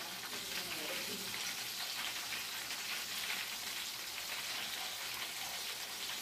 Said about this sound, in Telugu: ఇలా అన్ని వైపులా వేగేలా చూసుకోవాలి.